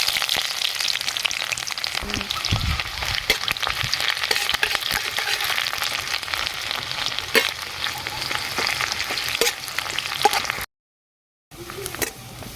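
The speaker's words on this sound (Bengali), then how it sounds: "তেল গরম হয়ে গেছে, দিয়ে দিচ্ছি শুকনো লঙ্কা আর কালো জিরা ফোড়ন।" Dried chillies, black cumin and onion sizzle and crackle steadily in hot oil in a pan, with occasional stirring clatter, close and continuous until a brief silent gap near the end.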